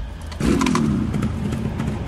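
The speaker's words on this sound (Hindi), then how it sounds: "उसने अपनी बाइक शुरू की और सीधे निकल पड़ा" A motorbike engine catches and revs up, a steady mid-pitched drone that holds and pulls away over about two seconds, close and fairly loud with no voices.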